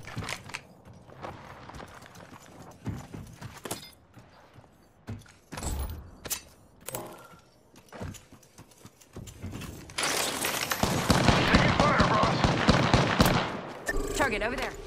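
Gunfire from the R-301 rifle with Anvil Receiver in Apex Legends on PS4 at close range: scattered sharp shots and footsteps give way to a dense, loud sustained burst of fire near the end.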